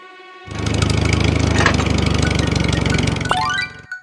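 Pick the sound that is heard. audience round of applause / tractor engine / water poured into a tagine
tractor engine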